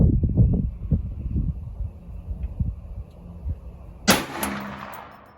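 A single gunshot from a Ruger .44 Magnum carbine firing a Remington 240-grain factory load at 50 yards, a sharp loud crack late in the clip after low rustling and handling noise.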